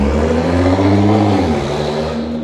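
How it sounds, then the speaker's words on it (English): A Nissan GT-R R35 engine revs loud and close as the car pulls away, a steady deep drone that eases off toward the end with no talk. "So yon, that was the Nissan GTR R35."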